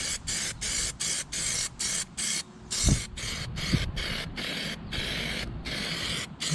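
PlastiDip rubberized paint is sprayed from an aerosol can onto an OZ Racing Vega wheel for a Porsche 911SC, in a run of short close hissing bursts with brief gaps, then a longer steady spray.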